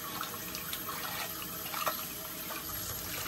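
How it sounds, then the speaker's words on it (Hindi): Water runs steadily from an opened kitchen tap into a container set below it, a continuous hiss and splash at moderate level with small bubbling variations and no talking. "तो अभी मैंने इधर पानी खोल दिया है"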